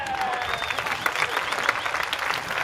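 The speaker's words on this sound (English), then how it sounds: "That applause seems loud, right?" Canned applause sound effect played during a talk program, a dense, steady burst of clapping lasting a couple of seconds at even loudness with no voices.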